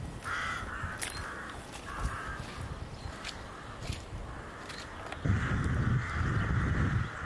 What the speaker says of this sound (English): Oh, listen to the crows.